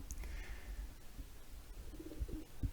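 Racing pigeons cooing at a release site before a GPS race from Taumaranui to Auckland, New Zealand, soft low coos coming in short bursts near the end over a steady outdoor background.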